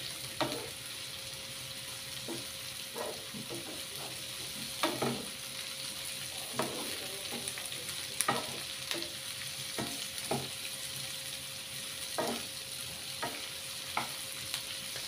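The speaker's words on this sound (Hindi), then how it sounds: "आतां तितून कॅप्सिकम घाता. ती मातशी फ्राय करपाची बरी." Capsicum sizzles steadily in a hot pan for a Goan chicken chilli fry, with repeated sharp scraping stirs of a spoon cutting through the constant frying hiss.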